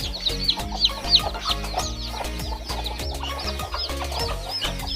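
Hens cluck steadily and close by in a village coop where a brooding hen sits with a rooster, their overlapping calls running without pause through the whole stretch with no talking.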